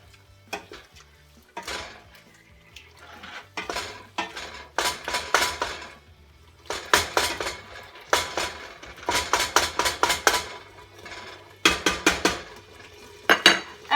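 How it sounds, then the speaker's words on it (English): Ground beef is broken up with a utensil in a hot pan on an electric stove as it browns, heard as repeated irregular clusters of sharp scraping and clinking against the pan with faint sizzling between bursts. "And I'm just going to chop this up and then let it brown."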